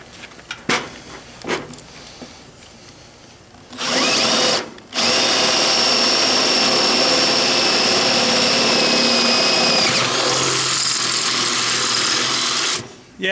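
A power drill with a metal bit bores a hole in a Pit Boss 1100 Pro pellet grill, first in a few short bursts, then in one long steady high-pitched whine that runs for several seconds before stopping.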